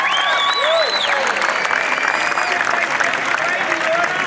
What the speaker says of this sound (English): so give a big round of applause to them as well